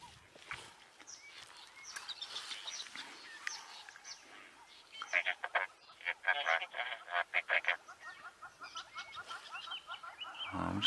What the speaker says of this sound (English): There's a squirrel alarm calling here.